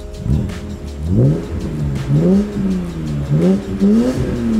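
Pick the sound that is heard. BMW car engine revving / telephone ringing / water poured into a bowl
BMW car engine revving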